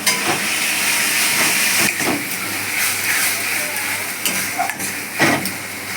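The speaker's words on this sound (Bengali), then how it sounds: "কাটা কাঁচা লঙ্কা দিয়ে দিলাম" Chopped green chillies sizzle in hot oil in a pan with sour yogurt while katla kalia fish curry cooks. A loud, continuous frying hiss runs throughout, broken by scraping stirs.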